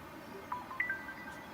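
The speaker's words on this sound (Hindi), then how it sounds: "मेरा फोन बज रहा है।" A mobile phone ringtone in an indoor drama scene: a few faint, short tonal chirps sound over a low background hum, with no talking.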